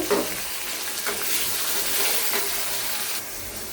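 Onion paste being fried in a pan for a home-cooked dish gives a steady, even sizzle that stays at one level for a few seconds, with no voices over it.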